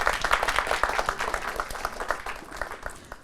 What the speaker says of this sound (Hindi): निशा के लिए एक बार तालियां बजाइए।